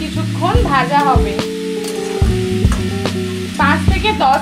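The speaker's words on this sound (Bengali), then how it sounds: "চিচিঙ্গেটা এবার কিছুক্ষণ ভাজা হবে" Snake gourd frying in a pan for a Bengali sesame dish, with steady sizzling and repeated scraping stir strokes of a spatula throughout, close and fairly loud.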